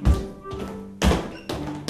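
Feet stamp on the floor in a children's story-time song, with three dull thuds spaced unevenly over a light musical backing.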